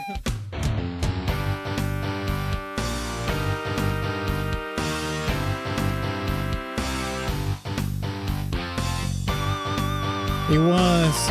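Retro MIDI-style video game music for a new game mode that plays like old Doom, a dense synthesized arrangement with steady bass, sustained chords and a rising melodic line, loud and continuous throughout.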